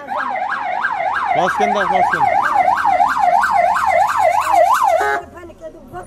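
Ambulance siren wailing loudly and close in a fast, regular up-and-down cycle for about five seconds before cutting off, with a voice speaking briefly over it.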